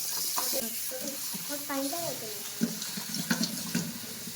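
Water runs from a tap while something is rinsed by hand, with splashing and light clinks under steady flow, fairly close.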